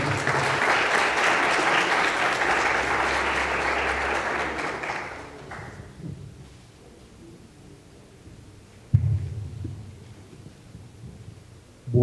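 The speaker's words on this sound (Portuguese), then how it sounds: "Uma salva de palmas para o Sr. Paulo César" Broad audience applause greets a speaker at a water-program lecture, loud and continuous for about five seconds before cutting off abruptly, followed by quiet room noise and a couple of soft thumps.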